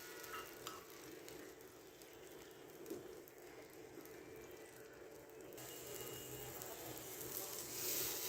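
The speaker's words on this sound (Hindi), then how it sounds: "अब हम यहाँ पर ऑमलेट कुक कर लेंगे" An omelette fries in about a tablespoon of oil in a pan, a soft, steady sizzle with faint crackles throughout, rising slightly toward the end.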